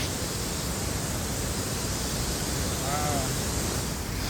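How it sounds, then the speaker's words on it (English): Steady roar of the waterfall at Semuc Champey in Guatemala, a broad, unbroken rush of falling water that fills the whole clip at close range with no pauses. "there's the waterfall"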